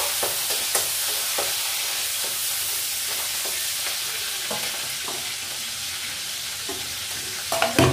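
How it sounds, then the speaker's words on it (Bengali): Whole white cumin, bay leaf and green chilli fry in a pan with a steady, close sizzle, broken by scattered clicks and scrapes of stirring throughout. "এটা একটু ভাজা ভাজা হয়ে আসছে।"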